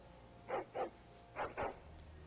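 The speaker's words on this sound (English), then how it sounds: "This is my puppy." A puppy in Dragon Age: Origins – Awakening gives four short, clear barks in two quick pairs, fairly faint over a quiet background.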